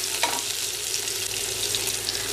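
Cumin seeds and finely chopped green chillies frying in a pan, a loud, steady hiss of hot oil with occasional crackles and pops, continuous, with no voices.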